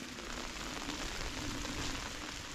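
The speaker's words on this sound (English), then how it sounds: "It's good for you, a little rain." Steady rain falls on an autumn homestead in Portugal, a dense, even hiss of drops on surfaces with no other sounds.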